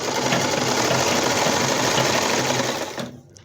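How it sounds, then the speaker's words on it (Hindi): Sewing machine running a long stretch of big basting stitches along the edge of a baby frock's skirt, a dense, steady whirring rattle close by that drops away near the end. "ये सिलाई बड़े टाके में करेंगे।"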